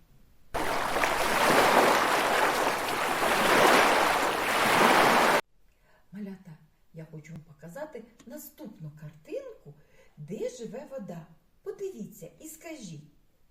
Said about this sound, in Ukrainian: Так, це море. А давайте подивимось та послухаємо його.